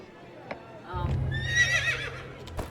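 In the game Quinfall, a horse whinnies once, a rising, wavering neigh over a low rumble, with a couple of faint clicks around it.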